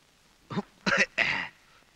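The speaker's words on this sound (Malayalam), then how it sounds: "ഓ, എന്താ ഒരു കണിയാന്റെ ചുമ?" A man gives a short run of three rough coughs or throat-clearing bursts, close and fairly loud, against a quiet indoor background.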